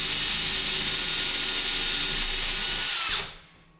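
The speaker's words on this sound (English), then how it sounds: "I'm going to drill through the center of the screw," A power drill whines loud and steady at high speed, boring through the center of a screw in a wall, then cuts off abruptly, leaving a faint fading hum.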